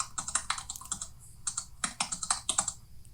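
Keyboard typing sound effect added in CapCut: a quick run of crisp key clicks in uneven bursts, close and clear, with no voices.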